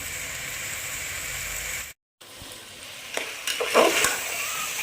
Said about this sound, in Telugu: బాగా మంగేదాకా కలుపుకోవాలి వెజిటేబుల్స్ అన్నీ బాగా మగ్గేదాకా కలుపుకోవాలి